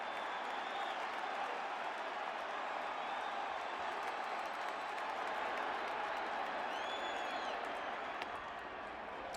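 Broad, steady roar of a baseball stadium crowd at a Yankees home game against Boston, sustained and distant-sounding, cheering and clapping blended into one continuous wash without a clear peak.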